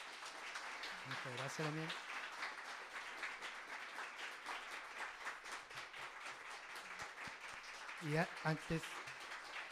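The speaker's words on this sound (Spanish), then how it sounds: "por favor le pido un aplauso" Audience applause in a room, steady clapping running under a speaker's voice, with the speaker talking at the start and again near the end.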